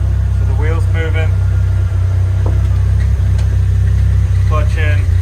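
A Nissan 240SX engine idles loud and steady with its clutch being engaged in gear, a constant low drone while someone talks over it.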